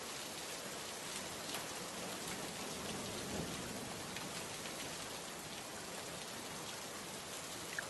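Steady rain falls in a cartoon village scene, a dense, even hiss of raindrops on surfaces that continues unbroken throughout, with no voices.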